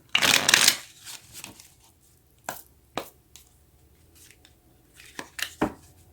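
Tarot deck shuffled by hand for a reading: a loud opening burst of riffling, then scattered sharp card slaps and soft sliding rustles, close and clear, with no voice.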